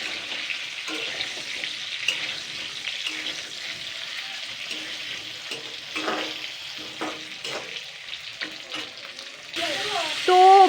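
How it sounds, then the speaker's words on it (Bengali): Pointed gourd pieces frying in hot oil in a pan, a close, continuous crackling sizzle with intermittent stirring scrapes, and a brief louder hiss near the end. "পটলগুলো এবারে আমি ভেজে নেব।"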